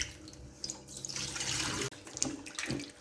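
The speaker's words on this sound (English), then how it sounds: "I'm making sure that the meat is washed properly." Running tap water splashes steadily over raw oxtail meat in a sink as it is washed, a close, continuous rushing stream with a brief break near the two-second mark, no voices.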